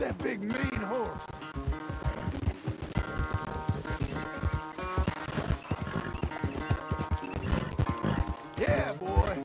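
A horse neighs loudly at the start and again near the end of a Red Dead Redemption 2 scene, with rapid hoofbeats and clattering thuds in between.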